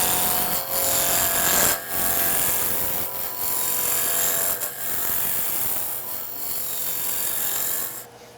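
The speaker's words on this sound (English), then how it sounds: "I'll use the spindle roughing gouge. First make it round." A wood lathe spins a pestle blank mounted between centers while a spindle roughing gouge rounds it, giving a steady scraping, rasping cut with short pauses between passes.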